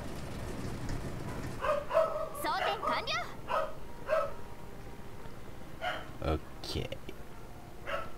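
Dog barking in the background behind a War Thunder game session, several short yips and barks at moderate distance, mostly under ongoing talk.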